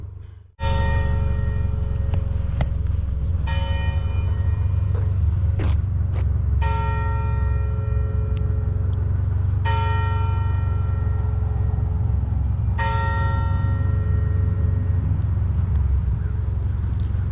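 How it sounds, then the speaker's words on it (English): A clock tower bell near Chatham station strikes seven o'clock in the morning, five or more resonant, ringing tolls spaced about three seconds apart, each decaying into the next over a low outdoor rumble. "We just had the clock tower and the beautiful bell announce that."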